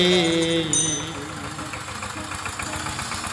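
An old power tiller engine idles with a steady low knocking rhythm, close by, after a brief tonal sound at the start.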